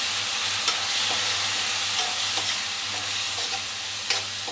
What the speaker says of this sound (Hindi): मसाला जले नहीं उसके लिए मैं थोड़ा सा पानी डाल रही हूँ यहाँ पर